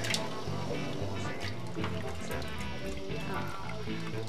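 Water poured over brewing grains steeped in mesh bags for homebrewing, a close continuous splashing and trickling with gurgling liquid throughout.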